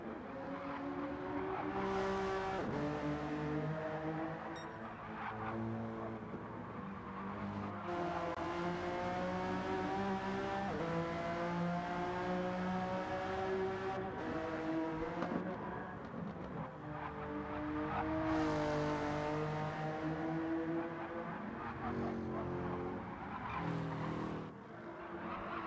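A Honda NSX race car laps Laguna Seca in a racing video game, engine droning steadily with rising and falling revs through gear changes, tyres squealing in corners, loud and continuous throughout.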